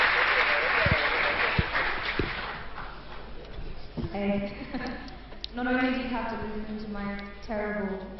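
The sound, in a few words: audience applause welcoming speaker Molly Hill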